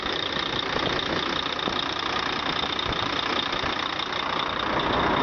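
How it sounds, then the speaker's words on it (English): A 2007 Volvo VNL64T780 diesel truck engine idling, a steady close mechanical rumble with a faint ticking knock and a constant high whine, no voices. "we'll go ahead and shut the engine off"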